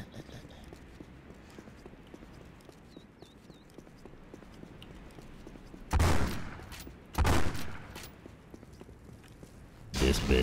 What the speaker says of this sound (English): Sometimes you gotta slug shoot people.